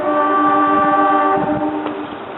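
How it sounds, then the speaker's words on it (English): Horn of train locomotive 269 sounding once, a loud sustained multi-tone chord that holds for about two seconds before fading, with rumbling rail noise underneath. "There goes the horn of 269 again."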